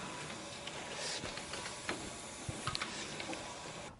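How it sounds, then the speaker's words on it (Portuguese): A letterpress printing press runs in steady rhythm, giving a continuous mechanical hiss with faint, irregular clicks and knocks. No one speaks. "ele consegue fazer sem parar a máquina, ele fica nesse ritmo imprimindo"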